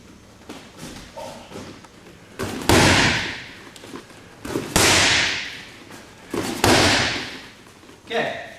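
Muay thai shin roundhouse kicks land on a target, three loud heavy thuds spaced about two seconds apart, each with a sharp slap and a trailing swoosh, amid smaller taps and shuffling.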